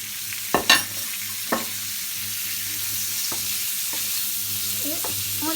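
Kefta meatballs cooking in butter in a tajine over medium heat, with a steady gentle sizzle broken by a few sharp clicks and knocks early on, then sparse light taps.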